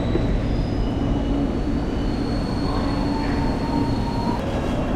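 A train pulls into a platform at a London station bound for Paddington, with a steady rumble of rolling wagons, a faint wheel squeal and station ambience throughout, close and continuous.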